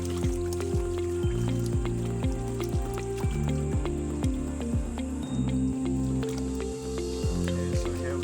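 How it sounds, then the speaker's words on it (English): Fish are dropped one after another into an earthen pond, making a rapid, regular series of wet splashes and squishy plops, close and fairly loud with watery dripping in between. "A lot of them are trying to swim out as I drop them in the pond."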